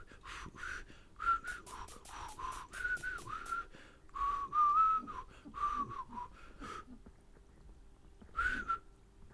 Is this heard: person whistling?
yes